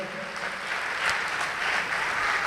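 A church congregation claps together in steady applause, a dense and fairly distant patter of many hands with no talking.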